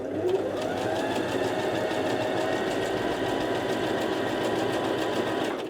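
A cheap sewing machine run by foot control stitches fabric with a steady, continuous motor whir and a fast, even needle clatter, heard close and alone for several seconds.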